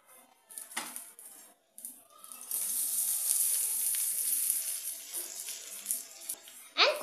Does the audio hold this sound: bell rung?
no